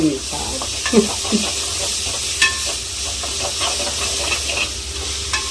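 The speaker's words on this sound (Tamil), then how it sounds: "இஞ்சி பூண்டு பேஸ்ட் போட்டு நல்லா வதக்கிடணும்" Ginger garlic paste sizzles with onions in a pan for chicken kuzhambu, a steady close frying hiss broken by a few stirring scrapes and clacks, with no one talking.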